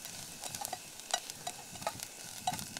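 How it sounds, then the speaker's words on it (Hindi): Onions frying in a pan until golden brown at an outdoor campsite, with soft crackling sizzle and scattered light clicks of stirring, fairly faint and close, with no talking. "अब इसको थोड़ा हल्का ब्राउन होने तक फ्राई करेंगे, गोल्डन ब्राउन होने तक।"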